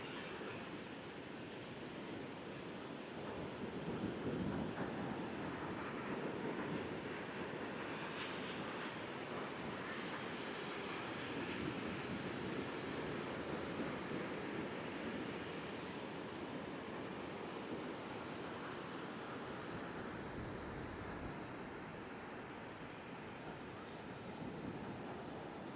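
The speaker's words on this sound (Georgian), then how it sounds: "აქ რაღაც სასიამოვნო ბრიზია. უბერავს კარგად." Steady sea breeze and surf along a warm seashore, a continuous broadband wash of wind and rolling waves with slow swells in intensity, fairly close and alone without any talk.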